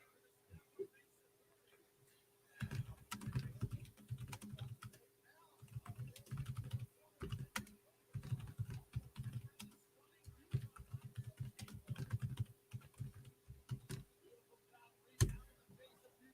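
Rapid typing on a computer keyboard, bursts of quick clicking keystrokes with short pauses between runs, close and fairly quiet, with a single sharper tap near the end.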